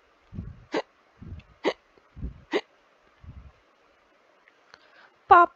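Several sharp hiccups in a children's story, each a short clipped gulp repeating at a steady rhythm, interleaved with soft low breathy sounds and ending with a louder hiccup.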